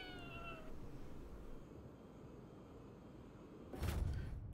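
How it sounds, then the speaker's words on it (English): A cat in Ghostwire: Tokyo meows in a few short, rising calls early on, then goes quiet over a steady low game ambience, with a louder burst of noise near the end. "Oh, the cat."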